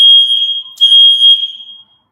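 An indoor fire alarm beeps loudly, a shrill piercing tone held for most of two seconds with a brief break partway through, heard alone without voices.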